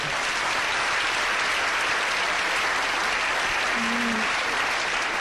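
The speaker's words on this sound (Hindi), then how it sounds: "एक बार तालियां बजाएं इनके लिए" Steady audience applause for a singer at a stage event with another singer and veteran music directors, a dense continuous clatter of many hands filling the whole stretch, with a brief faint tone near the end.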